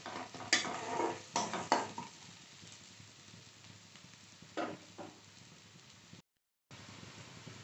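Onions stirred and roasted in a pan, a few soft scraping stirs and light clinks over a quiet steady sizzle, with a brief gap of silence near the end.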